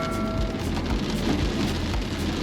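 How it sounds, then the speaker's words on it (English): Heavy rain pours down during a Hyundai Alcazar SUV test drive, a dense, steady hiss of drops drumming on the car body with a low rumble underneath, loud and continuous throughout. "it started downpouring"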